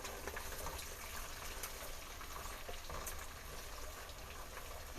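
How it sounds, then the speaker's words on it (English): Bacon frying in a pan while potato soup with dumplings is being made: a constant, dense crackling sizzle with scattered pops, steady and close, and no voices. "Hear the sizzle sizzle of bacon?"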